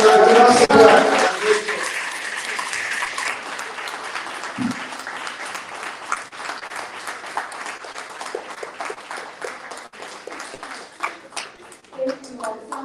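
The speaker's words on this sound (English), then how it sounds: "Let's give a round of applause." Audience applause at a book event in a restaurant-bookstore, a dense burst of clapping that gradually thins into scattered claps, with voices heard near the start.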